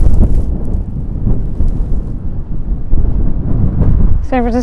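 Strong wind roars and buffets the microphone in heavy low gusts at Alcatraz in San Francisco, ending with a brief voice at the close.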